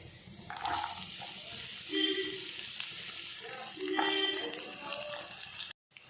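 Urad dal and lentils fry with dried red chillies in hot oil, a steady sizzle with occasional stirring, and someone talks over it.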